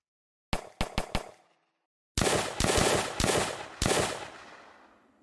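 Full-auto weapon fire in an Unreal Engine Nazi zombies shooter game: a quick burst of four sharp shots, a pause during a weapon switch, then a louder rapid volley of five heavy shots ringing out, close and alone.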